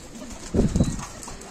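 Adana pigeons in a loft give a single low, throaty coo lasting under a second, close and clear over a faint steady background.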